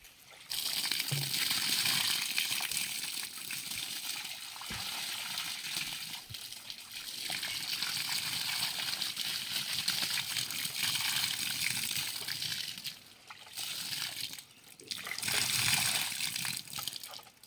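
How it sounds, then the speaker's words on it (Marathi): Water poured from a full pot into the loosened soil around an Alphonso (Hapus) mango graft sapling, heard as a sustained gushing trickle that runs for long stretches and pauses briefly, close and fairly quiet. "त्यामध्ये पूर्ण एक कळशी पाणी ओतूया"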